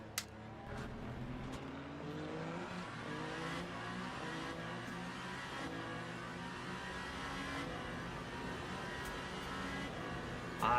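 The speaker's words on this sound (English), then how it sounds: "Look at how this Ferrari launches out of the exit." Ferrari hypercar engine in the racing simulator Le Mans Ultimate, played in VR, accelerating hard out of a corner exit, a steady loud rising engine roar with stepped gear changes throughout and no talk.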